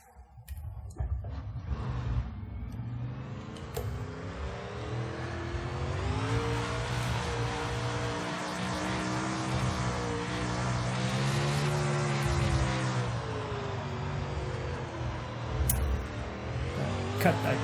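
A race car engine in a racing simulator drives laps on a dry slick track, revving up and down through gear changes and corners, loud and continuous with rising and falling pitch.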